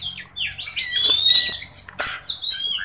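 An oriental magpie-robin (kacer) sings loudly and close by with rapid, varied chirps, whistles and sharp tweets in quick bursts, standing alone over a quiet background.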